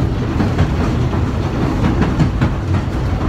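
Isle of Wight Steam Railway steam train running through a bridge, heard close and loud as a steady rolling roar with rhythmic wheel clatter throughout, no voices.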